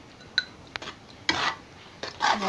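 Bengali prawn malai curry with homemade garam masala and coconut powder stirred in a pan: a few scattered metallic clinks and scraping strokes over a faint sizzle, with no talking.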